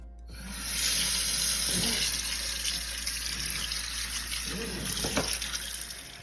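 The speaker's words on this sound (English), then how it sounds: "give the meat a quick rinse under some running water" Tap water runs steadily into a sink with a hiss and splash as beef is rinsed, while faint handling sounds and light knocks come through under the flow.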